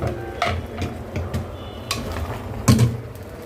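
Potatoes tossed into a pan and stirred while cooking without oil: close scraping and clattering of a spatula against the pan, irregular strokes with a sharper clank near the end, no speech.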